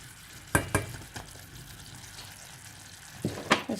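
Melted butter and white flour cooking in a pan for a chicken lasagna sauce give a soft, close sizzle, punctuated by a few sharp scraping stirs and utensil taps against the pan.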